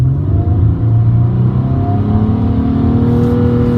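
A 2014 Nissan Maxima SV with its VQ35 engine pulls hard under acceleration, the engine note climbing steadily in pitch as it revs up, loud and close from inside the car with no talking.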